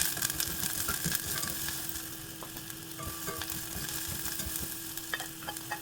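Onion sizzling in hot oil in a pan, a continuous close fry with scattered crackles and light stirring clatter, with no voice over it.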